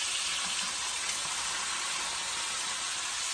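Honey garlic chicken thighs sear in a hot pan, giving a dense, even hiss of sizzling fat that holds steady and loud up close, with no voices.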